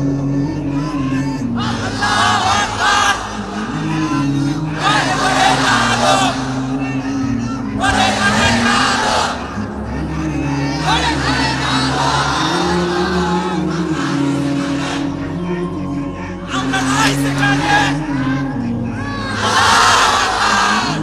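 A large crowd at an Islamic waz mahfil shouts takbir in loud, repeated bursts of massed voices, rising and falling every couple of seconds and filling the space close by.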